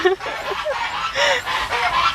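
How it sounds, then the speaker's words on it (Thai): Geese honk loudly and close by on a cattle farm in northeastern Thailand, several overlapping nasal calls in quick succession with a little farmyard noise. "เสียงห่าน"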